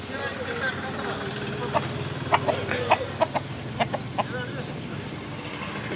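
Roosters at a country chicken market in Gollapalem, East Godavari, give scattered short clucks and crows amid a busy crowd murmur, with people talking nearby.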